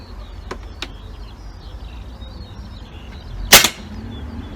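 An Iconix air rifle fires a pellet with one short, crisp crack in an outdoor setting, preceded by two faint ticks over low steady background noise.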